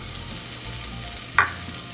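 Turmeric powder and spices sizzle softly in a pan as they are stirred, with a quiet, steady frying hiss and one brief scrape of the utensil.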